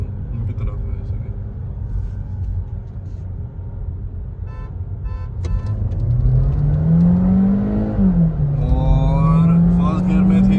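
A Skoda Kushaq 1.5 DSG and a Kia Seltos accelerate hard side by side in a roll race, engine note rising steadily to a peak, dipping at a gear change, then climbing again, with people talking over the engines.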